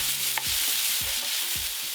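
Vegetables sizzle in a hot pan on the stove, a steady close frying hiss broken by several soft stirring scrapes, with no talking.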